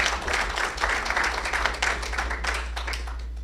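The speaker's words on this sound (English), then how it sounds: "Let's give them all a big round of applause." Conference attendees applaud in a lively, sustained round of clapping that fills the room at moderate volume, with a steady low hum underneath.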